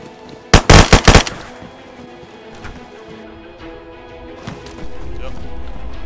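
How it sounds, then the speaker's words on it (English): A quick burst of several loud gunshots in DayZ, cracking close together near the start, followed by quieter movement and background noise. "I shot him"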